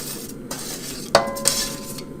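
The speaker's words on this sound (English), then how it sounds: "we'll go ahead and get this beef in our cast iron pot" Pieces of beef drop into a cast iron pot with a few clanks and scrapes, a short sizzle following one sharp metallic hit.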